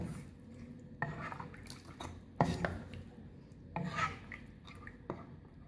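Yogurt and water stirred into mutton karahi in a pot, close scraping and clinking strokes of a spoon against metal, recurring roughly every second with wet squelching between them.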